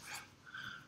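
A puppy pants softly in quick, faint breaths for a brief moment while chewing on string, close but quiet.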